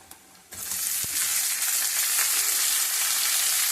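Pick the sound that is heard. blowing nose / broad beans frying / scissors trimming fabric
broad beans frying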